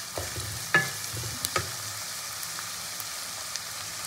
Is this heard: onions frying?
yes